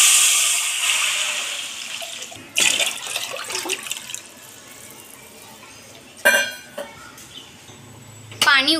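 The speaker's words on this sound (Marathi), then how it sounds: "आता त्यात टाकूया पाणी।" Water is poured into a cooking pot already holding cumin seeds, a pinch of asafoetida and turmeric. Several short splashing bursts rise over a quiet kitchen background.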